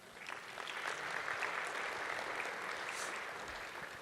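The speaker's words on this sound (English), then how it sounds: "I love taking applause for showing a feature that other teams work so hard on." Conference audience applauding a live software feature demo, a full, sustained round of clapping that swells early and fades gently toward the close.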